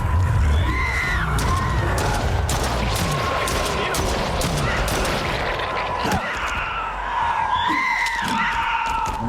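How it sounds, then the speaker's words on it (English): Loud, rapid gunshots ring out in the horror game Stray Souls, a sustained burst of fire layered over a tense droning score. "Shoot your gun!"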